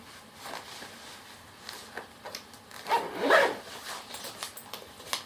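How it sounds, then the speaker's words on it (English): A zipper on a Longchamp Le Pliage backpack is pulled closed, a short rasping run rising to a brief louder burst near the middle, amid light rustling of the fabric. "Oh, here's a zipper."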